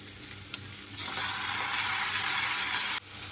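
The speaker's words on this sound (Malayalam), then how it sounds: "അതിലേക്ക് നമ്മൾ അരിഞ്ഞു വെച്ച തക്കാളി ഇട്ട് കൊടുക്കുവാണ്." Chopped tomatoes hit a pan of nearly softened onions and cashews with a loud, steady sizzle that starts abruptly after a few soft stirring clicks and holds strong for about two seconds before cutting off.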